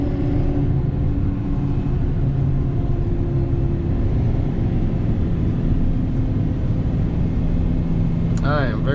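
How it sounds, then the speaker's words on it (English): A 2019 Ford F-750 dump truck downshifts, its diesel drone rumbling steadily close up with a brief shift in engine pitch near the end, while a voice talks over the cab noise. "Let's go ahead and downshift."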